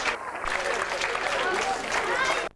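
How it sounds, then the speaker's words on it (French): Audience at a 1992 triathlon awards ceremony in Créteil applauds steadily and loudly for about two and a half seconds, a dense wash of clapping with crowd voices mixed in, cutting off abruptly at the end. "Que vous pouvez applaudir très très fort"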